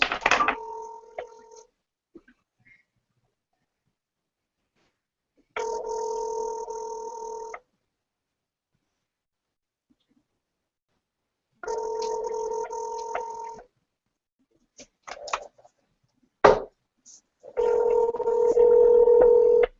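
Telephone dialing tones sound in several separate bursts lasting a second or two each, with silent gaps between them, clear and close, plus a few short clicks.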